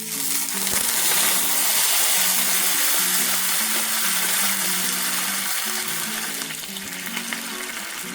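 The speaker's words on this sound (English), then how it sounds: "the next step is going to cause some steam, but that's part of the cooking process, so I'm going to go in with a little bit of water" Water poured into a hot stovetop pan of asparagus sets off a loud, steady sizzle and hiss of steam, close and continuous throughout with no talking.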